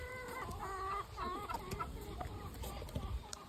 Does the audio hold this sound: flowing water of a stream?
no